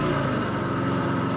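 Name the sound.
1954 Harley-Davidson KH 750 motorcycle engine shifting gears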